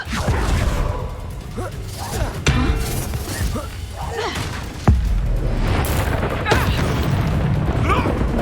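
The Bombarda spell in Hogwarts Legacy goes off with a loud explosive boom, surrounded by other spell whooshes, pops and game effects, while voices speak over the action.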